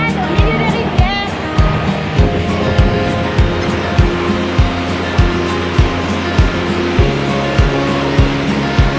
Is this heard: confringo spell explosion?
no